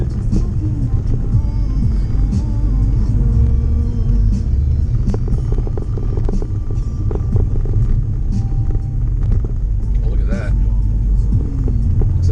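A Volkswagen Golf GTI cruising on a road during a snowstorm, steady low engine rumble and tire noise heard from inside the car, with a person talking over it.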